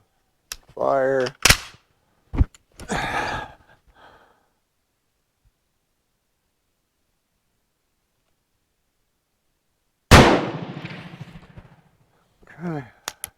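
Single loud shot from a Hakim rifle, a Swedish-designed military rifle, fired on a range, with a sharp crack and brief decay, preceded by speech and breathing and followed by a short rustle.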